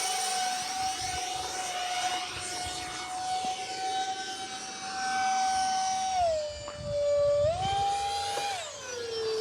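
An E-flite Habu 50mm electric ducted-fan model jet screams at full throttle, a loud high-pitched whine that holds steady, then dips and climbs again as it passes close by.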